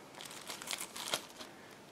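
Soft crinkling of a thin plastic bag holding transparent model kit parts being handled and pulled open, a few quick rustles close by, fairly quiet.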